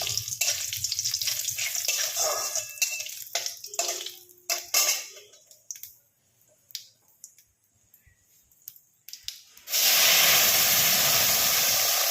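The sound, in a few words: tempering spices sizzling in hot oil before adding dal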